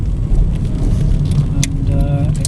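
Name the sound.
Vauxhall Astra 1.6 LPG estate car driving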